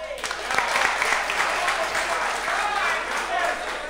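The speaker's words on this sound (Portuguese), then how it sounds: "Uma salva de palmas." Applause from an audience at a Portuguese-language rap battle semifinal, dense and continuous for several seconds and fairly close, with no talk over it.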